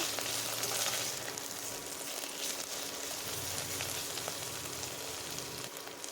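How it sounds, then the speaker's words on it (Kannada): Onion, mint and coriander leaves frying in a pan for kuska rice, a soft continuous sizzle at moderate distance, steady and fairly quiet throughout with no talking. "ಸ್ವಲ್ಪ ಕೊತ್ತಂಬರಿ ಸೊಪ್ಪನ್ನು ಸೇರಿಸಿ ಇದನ್ನು ಸಹ ಫ್ರೈ ಮಾಡ್ತಾಯಿದ್ದೀನಿ"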